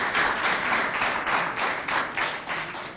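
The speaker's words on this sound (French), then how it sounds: "Applaudissez pour l'encourager." A crowd claps steadily for a schoolgirl at a school event, dense sustained applause in waves with no voices on top.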